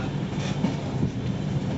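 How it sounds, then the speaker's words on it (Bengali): A passenger train rolls into Dum Dum Junction, heard from on board as a steady low rumble of wheels and carriages, continuous and fairly close. "এখন আমাদের ট্রেন কিন্তু ঢুকে গেছে দমদম জংশনে।"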